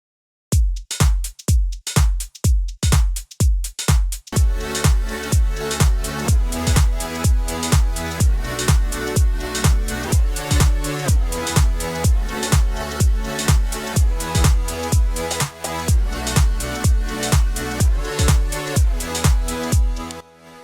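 Improvised chords from the Fluid Chords plugin played over a Logic Drummer drum track. Sparse punchy drum hits open, then dense sustained chords join in a steady, driving groove.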